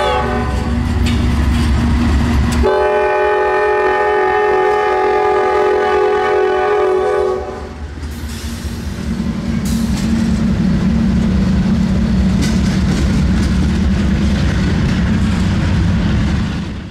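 Local freight train L613 rolling through Wilmington, North Carolina at night, its horn blaring a long sustained chord before the loud rumble and clatter of passing cars continues alone to the end.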